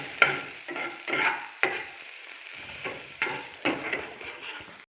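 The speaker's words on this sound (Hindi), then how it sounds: "कटा हुआ प्याज। बिस्मिल्लाहिर्रहमानिर्रहीम। सॉफ्ट करना हमने अब प्याज को।" Chopped onion frying in a pan, sizzling under repeated stirring strokes that land as about eight scraping bursts in an uneven rhythm, close and fairly loud, with no talking.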